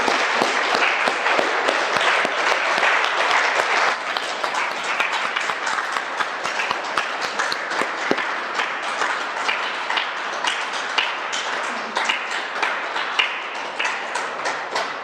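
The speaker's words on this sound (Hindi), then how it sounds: "चलो एक बार तालियां बजाएं आप सबके लिए" A yoga class, fresh from laughter exercises, claps together in a long, continuous round of brisk applause lasting about fifteen seconds, close and fairly loud throughout.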